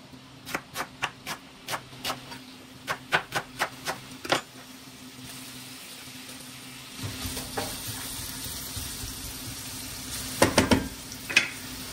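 Onions frying in a generous pour of olive oil start up partway through, a steady close sizzle that follows a run of sharp, evenly spaced clicks, with a few utensil clinks near the end.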